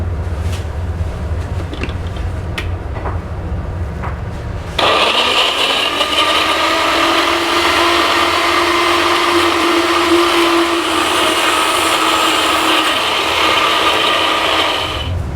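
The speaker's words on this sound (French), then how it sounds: "je vais la verser dans le blender" A blender starts abruptly and runs loud and steady, whirring as it purées heart-of-beef tomato with hot olive oil. Before it kicks in there are a few clicks and handling noises, and the motor whines on evenly to the end.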